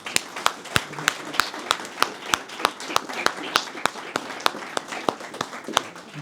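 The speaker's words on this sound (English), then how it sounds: "A round of applause." A community meeting audience gives a modest round of applause, with sparse, distinct individual claps ringing out in a steady rhythm and a few close, sharp hand claps standing out.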